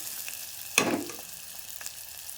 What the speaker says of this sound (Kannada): ಈ ಉಳ್ಳಾಗಡ್ಡಿ ಫ್ರೈ ಮಾಡ್ಕೊಳತ್ರಿ ಈಗ ಒಂದು ಸ್ವಲ್ಪ ಗೋಲ್ಡನ್ ಕಲರ್ ಬರೋಂಗ